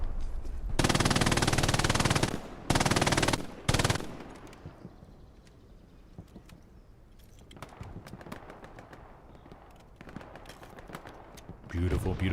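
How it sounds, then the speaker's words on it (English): MG42 machine gun fire in the multiplayer shooter Hell Let Loose, with loud sustained bursts up front and then scattered distant shots and crackling gunfire, under ongoing talk. "they're going to be dedicated to rocking the MG42 the whole match to hold down all these lanes"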